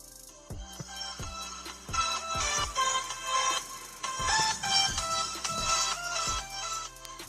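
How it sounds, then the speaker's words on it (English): Ringtone from the speakers of an Asus Zenfone 2 smartphone, a bright rhythmic melody of repeated plucked notes with percussive hits, fairly faint and alone. "let's listen to the speakers of the phone"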